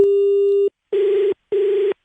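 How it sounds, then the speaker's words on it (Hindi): Phone line disconnect tone during a call: one long steady electronic beep followed by two shorter beeps with silent gaps, loud and alone. "फोन कट जा रहा है।"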